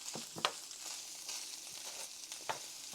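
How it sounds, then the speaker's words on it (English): Sliced peppers and onions fry in a pan with leftover beef grease for cheesesteak sloppy joes, a soft continuous sizzle with a few sharp pops and light stirring, no voices. "Now we're going to add in our peppers and our onions."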